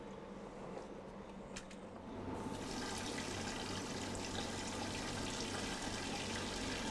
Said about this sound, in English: So you've covered the chaps with water there.